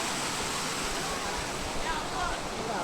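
The Napne waterfall in Konkan, running with reduced flow in May, produces a steady, loud, unbroken rushing roar of falling water that fills the scene.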